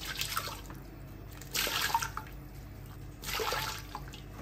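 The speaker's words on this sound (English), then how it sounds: "We can immediately begin by adding 3 cups of hot water to our casserole." Hot water poured from a container into a casserole dish while making a lamb shank pie, heard as two short splashing bursts of liquid, close and fairly quiet, with a steady background hiss and no talking.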